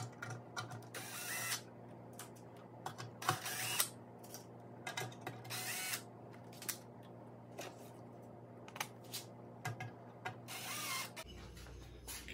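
Three screws are removed during assembly of a Harbor Freight Central Machinery belt and disc sander, heard as a faint, repeated whirring and ratcheting of a driver in short bursts over a low steady hum.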